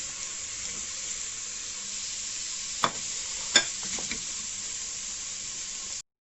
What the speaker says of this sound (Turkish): Kırmızı biber yeşil biber bunlarla beraber kavuracağım.